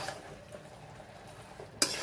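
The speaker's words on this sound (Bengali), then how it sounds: "চিকেনটা পুরোটা দিয়ে দিতে হবে, দিয়ে ভালো করে নাড়তে হবে" Chicken being stirred in a frying pan, a soft steady scraping and sizzling with a sharp clink of a utensil against the pan near the end, no talk.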